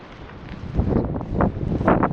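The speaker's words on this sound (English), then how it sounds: "Let's get out of the wind." Wind gusts buffet the microphone outdoors at the abandoned House of David amusement park at Eden Springs, a low rumbling roar that swells and surges in uneven bursts over about two seconds.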